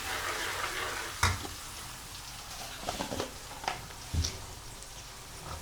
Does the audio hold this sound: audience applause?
no